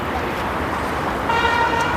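Road traffic on a busy highway near a ghat viewpoint, a continuous rumble of passing vehicles with a car horn honking in the second half, moderately loud and unbroken.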